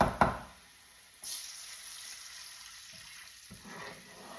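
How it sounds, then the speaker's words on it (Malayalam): Water poured into a hot pan while upma cooks, giving a sudden sizzling hiss that fades into a steady, soft frying sound with faint stirring close by; no one talks. "നമുക്ക് ഇതിലേക്ക് ഇച്ചിരി വെള്ളം ഒഴിക്കാം"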